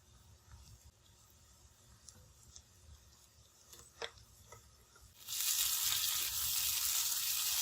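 Browned onions frying in a pan with ginger garlic paste, a few scrapes and taps at first, then a loud, steady sizzle bursts up and holds to the end, close with no voices.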